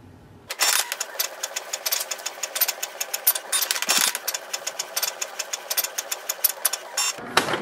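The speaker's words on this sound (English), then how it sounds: "click on the print icon and it will start the printing process" A Canon Pixma G3020 inkjet printer prints a page, its mechanism whirring and clicking in rapid, rhythmic bursts close to the microphone, with a brief pause partway through.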